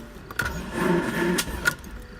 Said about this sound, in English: I'm not trying to start it, I just want to hear the engine actually turn.